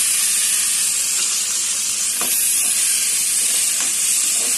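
Almonds and cashews roasting in ghee in a pan, a steady bright sizzle with a few soft stirring clicks and scrapes, close and continuous with no talking.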